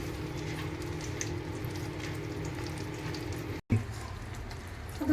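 Water poured into a mixer grinder jar to rinse out ground makhani sauce for butter chicken, a steady close hiss of splashing liquid that breaks off briefly and then resumes.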